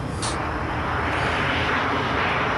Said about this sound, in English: As another airplane flies over.